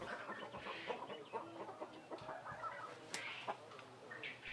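Chickens being raised for sale cluck and chatter close by, a busy run of short, overlapping calls with a few sharper squawks, fairly faint against a light outdoor background.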